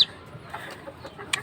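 An injured chicken gives a few soft, short clucks nearby, quiet and brief against a faint room background.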